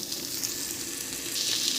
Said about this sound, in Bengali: আরও ওই 2-3 মিনিট মতন ভাজা ভাজা করে নেব